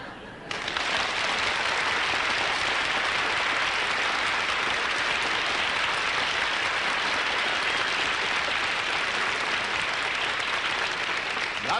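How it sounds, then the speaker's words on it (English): Television variety show studio audience applauding loudly and steadily, a dense sustained roar of clapping that begins abruptly and holds at full strength without letting up. "if the applause is loud enough and strong enough"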